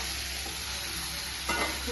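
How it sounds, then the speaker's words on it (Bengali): Mutton kosha stir-frying in a pan, a steady close sizzle with a brief scrape of stirring near the end; no talking. "একটু জল দিয়ে একটু কষাতে হবে"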